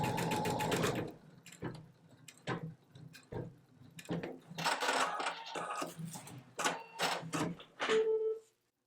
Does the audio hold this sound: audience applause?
no